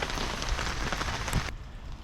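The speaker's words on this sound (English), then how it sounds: "It's only a bit of rain, it's fine." Light rain pattering steadily on a tarp shelter in woodland, a dense, even hiss of drops close overhead that continues without a break.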